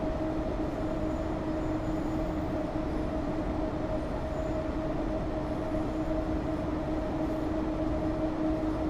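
Two Class 90 locomotives hauling a Freightliner intermodal freight train in Train Sim World 6, Crewe Basford Hall to Carlisle: a steady, loud rumble with a sustained electric motor hum, continuous and without talk.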